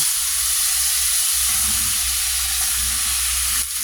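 Rice with soy sauce, green peas and garlic-free mix sizzles steadily in a hot frying pan, a dense, continuous fry hiss with faint low stirring rumbles, close and loud, with no talking.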